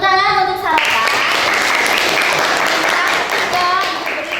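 Classmates clap in a classroom, a dense burst of applause lasting several seconds. A voice speaks just before it begins and again as it fades.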